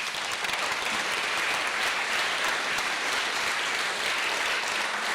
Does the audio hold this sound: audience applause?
yes